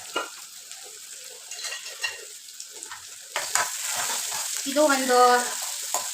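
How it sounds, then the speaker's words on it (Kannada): Salted onions fry in oil for a dhal, a quiet sizzle with scraping stirs that swells louder midway, while a person speaks briefly over the cooking. "10 ಸೆಕೆಂಡ್ಸ್ ಅಥವಾ 15 ಸೆಕೆಂಡ್ಸ್ ಚೆನ್ನಾಗಿ ಫ್ರೈ ಆಗಬೇಕು ಆನಿಯನ್ನು ಆಯಿಲಲ್ಲಿ"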